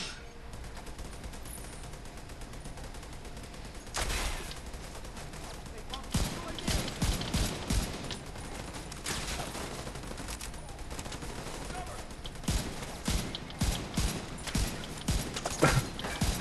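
Rapid in-game gunfire from The Division 2, with repeated bursts and sharp single shots cracking loudly through most of the stretch, thickest in the second half, while players talk over it.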